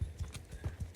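Horse hooves clip-clopping in the video game Mount & Blade 2 Bannerlord, a steady run of low, close hoofbeats roughly every fifth of a second across a short ride, heard alone.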